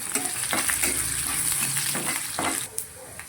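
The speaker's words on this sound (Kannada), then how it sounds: "ಅದಕ್ಕೋಸ್ಕರ ನಾವು ಒಗ್ಗರಣೆ ಹಾಕ್ತೀವಿ" Spices for an aloo matar gravy temper in hot oil with dry chilli, a loud close sizzle and crackle with a few scraping stirs, and no speech.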